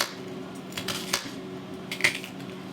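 Knife chopping a quarter of a small onion into little pieces on a board, a few sparse light taps and clicks over a quiet kitchen hum.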